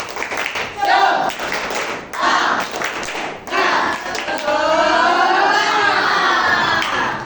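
A classroom group performs a rhythmic spirit clap in sharp, patterned bursts, with children's voices and shouting mixed in as the claps build into a louder sustained stretch near the end.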